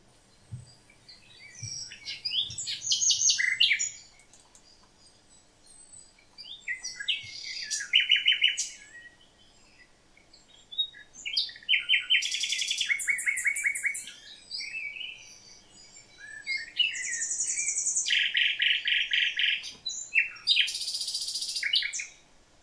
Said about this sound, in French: Alors, le rossignol, ça chante comment?